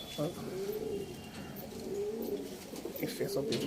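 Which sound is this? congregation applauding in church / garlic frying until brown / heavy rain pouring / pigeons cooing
pigeons cooing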